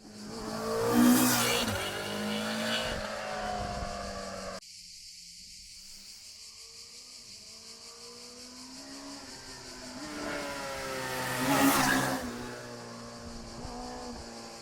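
A Honda CB1000F motorcycle engine, Euro 5 Plus compliant, revs as the bike passes twice, each pass swelling and fading, with a quieter stretch between the two.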